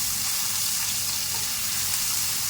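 Garlic and green chili paste cooking in a pan gives off a dense, even hiss of frying that holds steady for a couple of seconds, close and fairly loud, with no talking.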